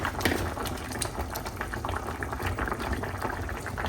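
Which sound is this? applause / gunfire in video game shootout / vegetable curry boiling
vegetable curry boiling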